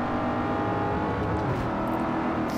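Red Porsche Cayenne Turbo accelerating in Forza Motorsport 4, a steady, loud engine roar holding for a few seconds without letup.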